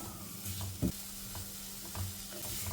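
Banana pieces stirred with melting sugar in a pan, a faint low sizzle with soft scraping strokes and one brief knock of the spoon, quiet and close.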